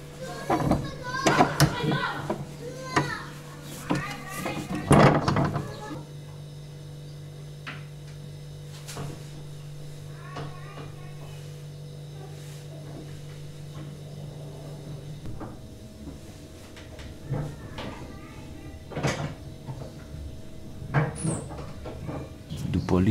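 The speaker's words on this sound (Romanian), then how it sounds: "Deci clipul ăsta o să fie jumătate de oră cum eu încerc să deschid ușa asta." A hotel room door in Cairo being struggled with, rattling and clunking handle and lock knocks scattered through a long stretch, close by, mixed with a steady hum and intermittent talking.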